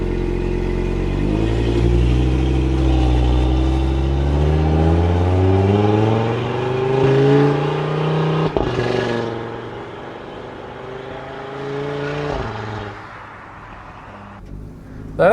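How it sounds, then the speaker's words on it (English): Audi RS3 five-cylinder with a standard catback and sports downpipe revving up through the gears during a drive, loud and close, with rising engine notes and brief dips between shifts. "Engine sounds sweet."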